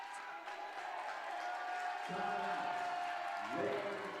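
A steady murmur of crowd noise fills the gym at a high school basketball game between Portage Central and Loy Norrix, with the chatter swelling slightly partway through.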